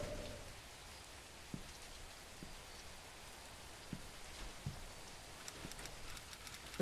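Steady rain hisses over a game scene in Meat, a dense wash of drops with a few soft thuds and taps scattered through it, fairly quiet and with no talking.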